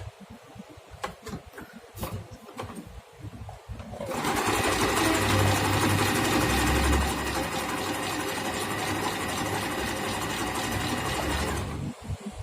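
A Singer Simple 3232 sewing machine stitches a pattern in a steady, close, rapid mechanical whir for about eight seconds, after a few light clicks at the start.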